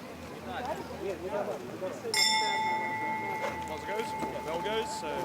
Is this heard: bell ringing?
yes